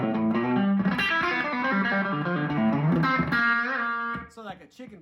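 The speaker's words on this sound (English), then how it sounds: "the echo is barely turned up, so I get this real tight slapback" Electric guitar played through a pedalboard with a tight slapback echo from an effects pedal, a continuous bright twangy phrase ringing close and loud before fading out.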